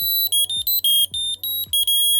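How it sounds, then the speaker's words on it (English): A shrill 80-decibel electronic alarm from a tracker tag beeps in rapid, evenly spaced pulses, loud and piercing, repeating about eight times with no talking. "there's also an 80 decibel alarm inside of this"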